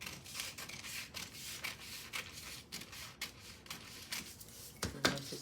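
Scissors snip through paper while a skirt pattern is cut out, giving close, repeated crisp cuts and rustling with a few sharper clicks near the end.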